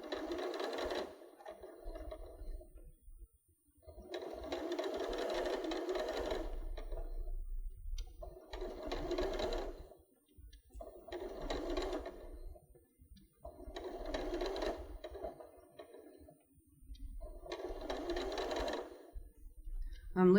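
A sewing machine stitching a quarter-inch seam on fabric fused to interfacing, running in six distinct bursts of rapid whirring, each a couple of seconds long, separated by short quiet pauses.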